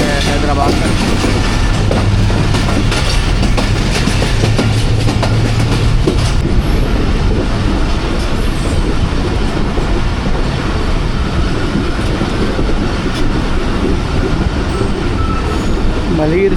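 The Hazara Express runs steadily on the rails toward Hyderabad, a loud, continuous rumble of wheels and carriages with rhythmic clatter and some squeal, heard close from on board.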